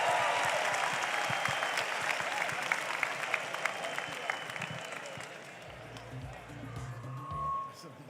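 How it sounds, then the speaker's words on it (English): Applause from the crowd at an engineering master's commencement fills the start and gradually fades; talk is heard over it and a low rumble follows near the end. "let's give these graduates a round of applause"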